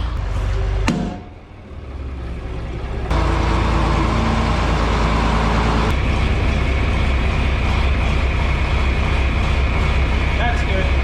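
Grandpa drives a 4020 tractor whose engine throbs in a loud, continuous low rumble. It dips briefly near the start, then holds steady and strong close by for the rest.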